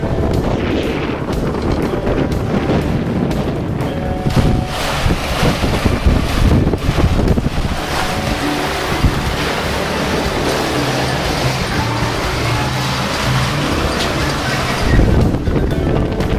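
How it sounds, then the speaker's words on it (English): Strong wind while sailing a sailboat at sea off the Georgia coast near South Carolina, a loud continuous roar of wind buffeting the microphone over rushing water and hull noise, with no talking. "ending the whole thing on some really good wind, really good sailing."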